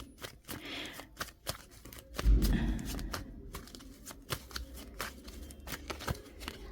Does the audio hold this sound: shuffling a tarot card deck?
yes